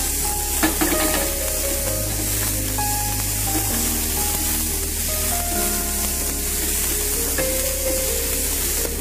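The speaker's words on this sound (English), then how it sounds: "Now we're going to add in the onions. And stir it well so it's uniformly cooked." Onions fry in a hot pan with a dense, loud sizzle and spattering hiss as they are stirred, with occasional utensil scrapes up close and a low steady hum beneath, no talking.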